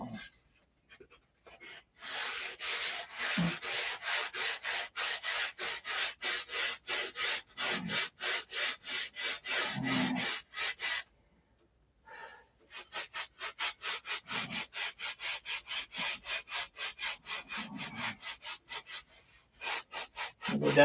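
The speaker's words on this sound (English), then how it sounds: "I'm sanding halfway up the way, you know. Because we're airfoiling this." Wood is sanded by hand to shape airfoil flaps, a close, rhythmic back-and-forth rasping in quick strokes, with one short pause midway.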